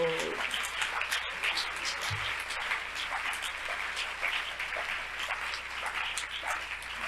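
Applause from a church congregation during a sermon, a steady wash of clapping that holds evenly throughout at moderate loudness with no talk on top.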